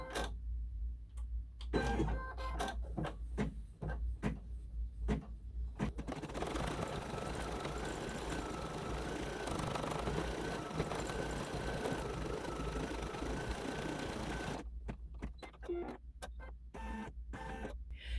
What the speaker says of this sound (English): The next thing we will stitch out after the cheek swirls are the glasses. And I wanted to get a little silver in there. I'm enjoying all this metallic thread.